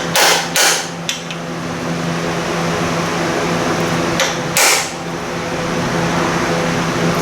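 Sharp metallic hammer taps seat a part on a 1978 Indian moped engine: a quick pair of strikes, a lighter knock, then two more taps several seconds later over a steady background hum.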